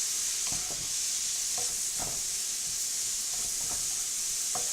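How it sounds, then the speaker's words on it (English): Garlic sizzles steadily alongside onion and pepper in a pan for lasagna, a continuous bright hiss broken by a few soft stirring clunks. "Now I'm going to add the garlic, since the onion and pepper's got a head start."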